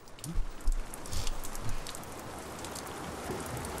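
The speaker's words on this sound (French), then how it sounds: "Il pleut." Steady rain pattering on a surface, with a few heavier drops and low thuds early on, then an even wash of rainfall.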